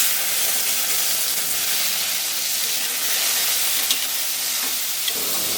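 Ginger, green chilies and tomato frying in a little oil, a loud steady sizzle and hiss with a couple of faint stirring taps, no talk.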